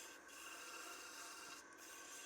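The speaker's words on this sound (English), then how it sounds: "rough sanding" Steady rough scraping of sandpaper rubbing across wood, continuous and close, with no voices.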